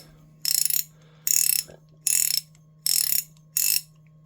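A Dayton ratchet with a big pawl clicks in five loud, bright bursts of rapid ratcheting, each about a third of a second, evenly spaced over a faint steady hum, close up and without speech.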